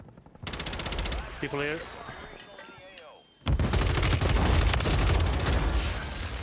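Rapid bursts of gunfire in the Call of Duty Warzone battle royale, dense and loud, filling the latter half after a stretch of quieter game sounds with players talking over it.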